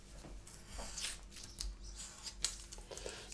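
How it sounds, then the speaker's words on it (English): Scissors trim small paper pieces for a handmade pop-up box, a few quiet, close snips mixed with light paper rustling and handling. "then we'll trim these off"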